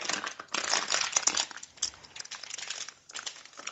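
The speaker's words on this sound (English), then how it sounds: "You need to remove all this plastic, the tag right here, actually with the plastic as well." Plastic wrapping crinkles and crackles as it is pulled off a Noel serrano ham, close and fairly loud in uneven bursts with short pauses, no talking.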